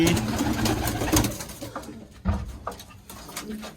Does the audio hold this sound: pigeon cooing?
yes